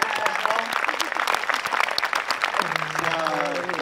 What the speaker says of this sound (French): C'est la première fois qu'on peut l'applaudir.